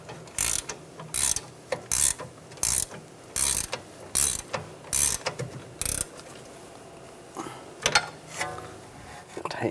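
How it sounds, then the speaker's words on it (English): A ratchet wrench tightens a rear sway bar link nut on a 2009–2013 BMW 328i xDrive: a steady series of loud, close clicking bursts, each stroke a quick ratcheting rattle, slowing and fading into lighter clicks near the end. "I'll use a ratchet wrench and tighten this down"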